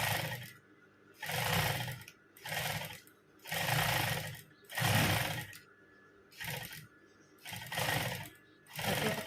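A sewing machine stitches a hem along a double layer of fabric with small stitches, running in about seven loud whirring bursts of a second or so, each separated by short pauses.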